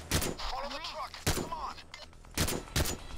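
Shotgun blasts in the heist game Payday 2, level Slaughterhouse: four loud, sharp booms spaced unevenly over a few seconds, with game sounds and someone speaking between them.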